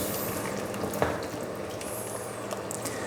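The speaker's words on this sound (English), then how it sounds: "Give that a good mix." Sausage casserole ingredients with sugar just added are stirred in a pot, giving a soft continuous wet churning and faint sizzle with a brief clink near the middle, close and steady.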